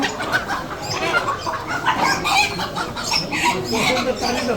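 Chickens cluck and squawk in a busy market, a dense, continuous layer of close fowl calls mixed with crowd noise and people talking.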